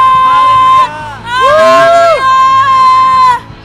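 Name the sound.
congregation cheering and shouting at church service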